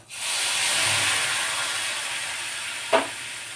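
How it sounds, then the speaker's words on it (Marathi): A loud, steady hiss of steam and sizzling rises as hot, boiled sugar syrup is poured into roasted semolina in a pan, fading slightly, followed by a couple of brief knocks. "आता आपण यामध्ये हे जे उकळलेलं साखरेचं पाणी आहे ते गाळून टाकणार आहोत"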